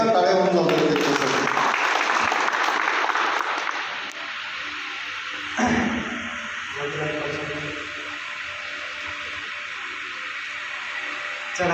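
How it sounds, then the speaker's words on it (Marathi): An audience claps for a ghazal recital, with dense applause in the opening few seconds that fades out, followed by a voice and quieter hall sound. "एकदा टाळ्या होऊन जातो त्याच्यासाठी"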